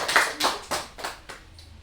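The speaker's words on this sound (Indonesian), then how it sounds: "Beri aplaus kepada Azia." Rhythmic group clapping in a school group counselling session: about six evenly spaced, crisp claps in unison, close and fairly loud, fading slightly toward the end, with no talking.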